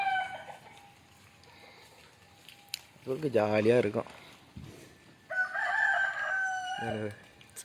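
Native country chickens cluck while a black rooster crows twice, each crow a loud, drawn-out call rising above the farmyard clucking, with someone talking over the birds.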